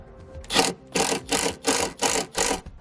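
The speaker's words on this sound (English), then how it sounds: "Now this little screw comes with the kit and I'm using a 1/4" nut driver." A small kit screw being driven through two layers of sheet metal on a 2018 Volkswagen with a 1/4 inch nut driver: six regular, evenly spaced grinding turns, close and fairly loud, no voices.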